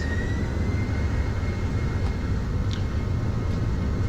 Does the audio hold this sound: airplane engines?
yes